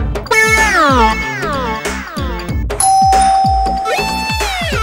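A doorbell rings repeatedly indoors, a series of bright, loud melodic ding-dong chimes with ringing overtones, sounding several times in quick succession with no talking.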